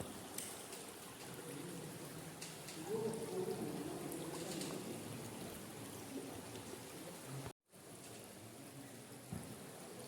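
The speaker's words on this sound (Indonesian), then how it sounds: "Di bawah ini ada air mengalir" Steady, clear water flows and trickles inside a bat cave in Padang, a continuous low rush that fills the space, with faint voices in the background.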